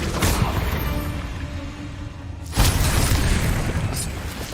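A Confringo spell explosion in Hogwarts Legacy, a deep booming blast with a rumbling tail, followed by a second sharp burst partway through, loud and close against ongoing game noise.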